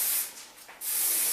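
Hairspray misted onto a styled chunky bob, two short airy hissing bursts with a brief gap between them, close and clear with no talking.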